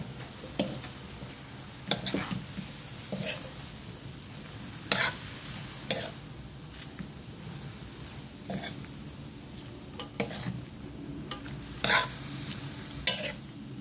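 Pancit bihon is stirred in a pan with Silver Swan soy sauce, giving a low sizzle of frying under repeated scraping and clinking strokes of the utensil that recur every second or two.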